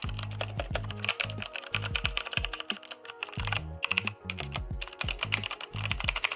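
Rapid clacky typing on a Redragon Dark Avenger mechanical keyboard with brown switches, dense bursts of close, crisp keystrokes broken by a few short pauses.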